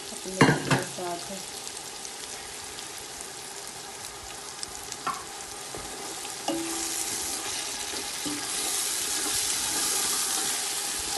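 Turnip pieces sizzle and fry steadily in a pan for an Indian turnip curry, with a few sharp stirring scrapes near the start and a continuous crackling hiss that swells toward the end.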